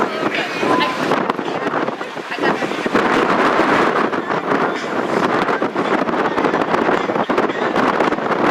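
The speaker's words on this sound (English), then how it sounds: "Wind is definitely picking up right now, makes it a little bit harder to finish this out." Wind gusting across an outdoor track during a girls' cross-country race, a continuous rough buffeting roar on the microphone while a commentator talks over it.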